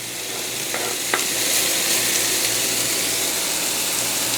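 Kinilaw banana heart with vinegar and chili sizzles in a pan while being stirred, a loud, continuous frying hiss with a few scraping stirs.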